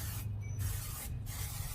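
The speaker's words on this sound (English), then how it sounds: "Pam butter spray." Pam butter-flavored cooking spray hisses onto a hot Blackstone griddle in two short bursts, close and clear over a steady low sizzle.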